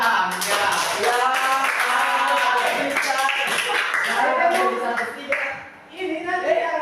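Classroom applause from a class of students in a school history lesson, a sustained burst of many hands clapping close by with some voices mixed in, dipping briefly near the end before rising again.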